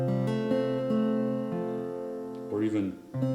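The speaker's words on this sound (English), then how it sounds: "a lot of times I'll hammer on my second finger" Close acoustic guitar notes ringing with quick second-finger hammer-on pitch changes, followed by a few short sung or hummed vocal sounds near the end.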